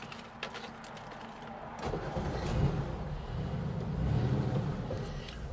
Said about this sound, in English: Hell, we just started a Porsche